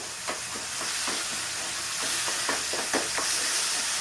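Tomatoes for pav bhaji frying and being stirred in a pan, a continuous close sizzle broken by irregular scraping strokes of the spoon.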